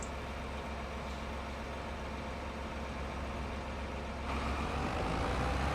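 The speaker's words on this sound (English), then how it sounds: "So even with the tractor on, yeah," A tractor engine runs steadily close by, a continuous low rumble that grows slightly louder and rougher near the end, with no speech over it.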